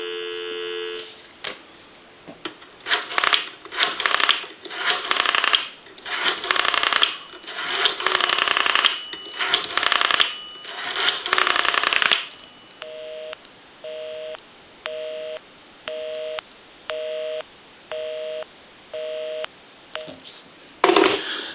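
Telephone keypad tones dialing a number in a quick series on a repaired Northern Electric N233H three-slot payphone, followed by a repeating busy signal with evenly spaced on-off beeps, loud and close.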